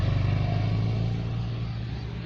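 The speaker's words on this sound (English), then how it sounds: "Oh, listen to the whine." A passing car on a road trip, with a steady engine drone and faint whine that is loudest at the start and eases gradually as it moves away, with no talk.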